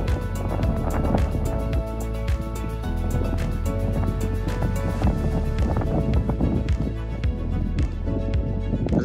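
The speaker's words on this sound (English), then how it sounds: "I'm sorry for all the wind" Gusty wind buffets the microphone at a scenic outdoor spot in Honolulu, a loud, uneven rumbling roar that never lets up across the whole stretch.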